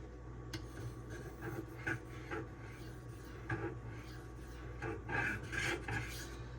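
A Cold Steel Swift knife sharpened on DMD diamond stones, with a steady close rasping scrape of blade strokes that rises and falls in repeated passes, set against a constant low background hum.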